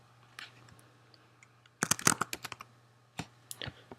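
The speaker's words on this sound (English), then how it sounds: "So I'm just going to type that in." A few scattered keypresses on a computer keyboard give way to a quick burst of typing, then a pause and several more taps, all close and fairly quiet in a still room.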